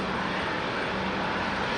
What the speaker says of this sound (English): looks like our next arrival is going to be American Airlines